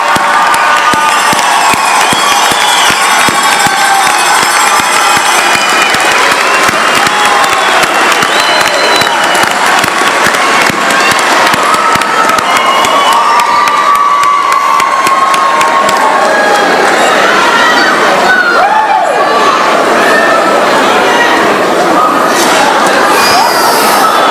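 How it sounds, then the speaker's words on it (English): A graduation crowd at a 2012 community college commencement in Schenectady, New York cheers and applauds, with loud, sustained whooping, shouting and clapping from a large audience throughout. "Let's give our 2012 graduates a round of applause."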